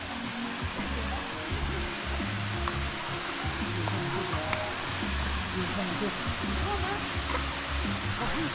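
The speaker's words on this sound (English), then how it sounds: "Big splash." Constant rushing roar of a Maui waterfall plunging into a pool, a dense, even wash of falling water heard close and steady throughout.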